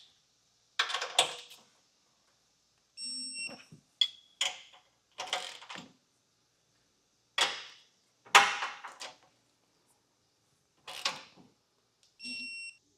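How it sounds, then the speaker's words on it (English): Clicks of a torque wrench tightening bolts while a Roadmaster Direct-Connect base plate kit is installed, in about nine separate short bursts spread through the clip, with a few faint electronic beeps between them. "Now we'll take our torque wrench and torque everything down to the specifications in the instructions."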